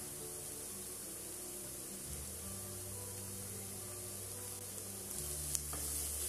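Grated onion and carrot with salt stirred in a pan, a soft steady sizzle with faint scraping of the spoon, close and quiet with no talking.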